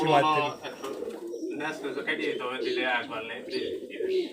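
A pair of Giribaz high-flyer pigeons from Rajshahi coo softly and repeatedly at close range, mixed in with a voice talking nearby.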